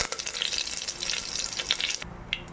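Mustard seeds and curry leaves hit hot oil for a tempering in a kadale kalu sambar, giving a steady, dense crackling sizzle close by that drops away sharply near the end, with no talking.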